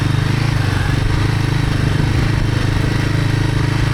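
A Royal Enfield Himalayan 450 motorcycle riding on a sandy Michigan singletrack trail, its engine thrumming in a steady, close, loud rhythmic pulse with no breaks throughout.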